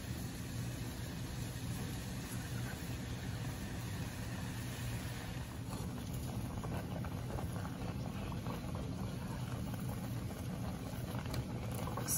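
Strawberry syrup with lemon juice boiling in a pot on high heat, a low steady bubbling rumble that stays constant and fairly faint throughout.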